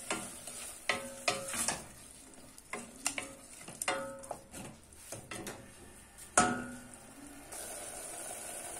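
Chopped onion and tomato sizzle quietly in a pan for a Kabyle dish, with repeated scraping and knocking as a utensil stirs them. A few sharper clacks stand out, and no one speaks.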